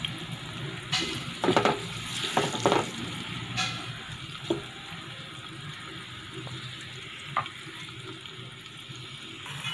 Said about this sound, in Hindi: बर्तन में घी डालें और उसमें 3 अदद प्याज बारीक कटे हुए डालकर उसको हल्का ब्राउन करें